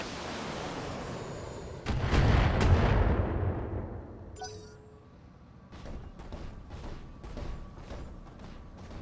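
Heavy weapons fire from battle mechs in the BattleTech PC strategy game: a loud booming volley with rumbling decay, followed by a string of sharper, rapid impacts or shots, no talk.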